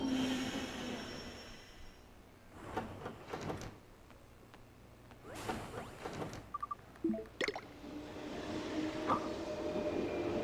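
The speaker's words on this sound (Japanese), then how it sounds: "ほら快速来ちゃった" A rapid train pulls into a station in the video game Yo-kai Watch 2, with a low rumbling roll, rhythmic rail clacks and a door-like clunk, under steady background hum.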